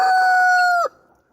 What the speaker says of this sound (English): Look at those beautiful roosters.